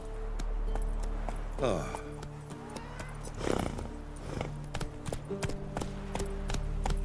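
In The Witcher 3, the horse Roach gallops with a steady clip-clop of hooves that runs throughout, fairly close, while voices talk over it.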